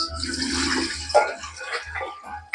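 Water pours and splashes into a cooking pot with garlic and onion for a couple of seconds, close by, then trails off into a few drips and a short clunk.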